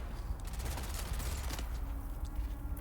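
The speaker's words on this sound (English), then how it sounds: "disruptor weapons can deal a lot of damage" Disruptor weapon fire in Dune Awakening, a dense, rapid stream of shots crackling continuously at close range against a constant low rumble.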